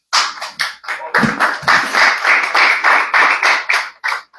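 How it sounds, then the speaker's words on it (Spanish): Church congregation at a Sunday Spanish-language service claps in a quick, uneven burst of many hands, loud and close, fading out after about four seconds. "Un aplauso al Señor."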